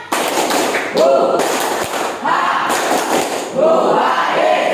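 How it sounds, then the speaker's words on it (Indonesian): A school class performs a rhythmic spirit clapping chant, voices shouting together in short bursts punctuated by sharp, unified claps, loud and close in a classroom. "Oke, sekarang tepuk semangat. Tepuk semangat."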